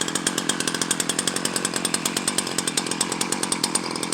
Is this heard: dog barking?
no